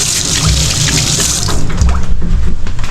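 Hands being washed under a running tap at a kitchen sink, a steady splashing stream that shifts and turns more choppy partway through as the hands move in the flow, close and fairly loud with no talking.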